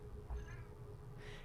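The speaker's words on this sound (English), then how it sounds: "That's our cat." A house cat gives a single short, faint meow close by, over a quiet low hum in the room.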